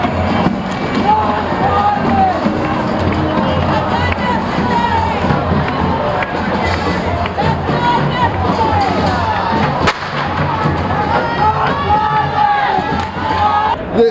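A large protest crowd at the 1999 WTO demonstrations in Seattle shouts and yells continuously as police fire tear gas and rubber bullets. The dense roar has a sharp thud near the end.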